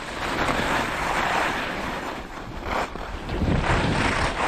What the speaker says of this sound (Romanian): Aerul care îl străbateți, el devine ca un vânt puternic.